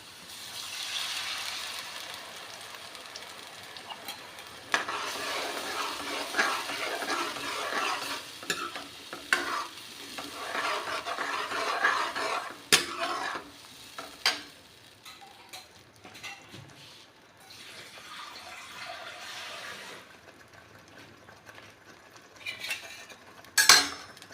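Spice masala for a ridge gourd curry is stirred and fried in a pan, giving steady sizzling with repeated scraping and clinking of a spoon against metal throughout, close and fairly loud, with no talking.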